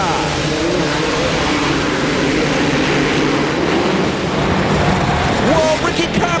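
Supercross dirt bike engines at a race start in Indianapolis, a dense, loud wall of overlapping engine noise rising as the field revs, with a crowd-like wash and brief whine near the end.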